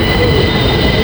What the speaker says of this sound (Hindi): फिर वहाँ पे ये है वो रैपिड मेट्रो, जो कि डीएमआरसी का हिस्सा नहीं है